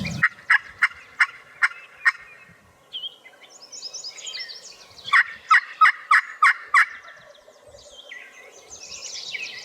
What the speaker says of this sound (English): I didn't get him to gobble, he got on his own.